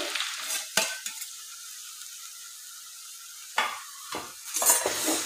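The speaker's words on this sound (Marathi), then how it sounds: "जे आपण गाजर किसून घेतलेले आहेत ते टाकूया।" Grated carrots dropped into hot ghee in a pan for carrot halwa, with a few loud clattering stirs and scrapes broken by a quieter stretch of soft sizzle.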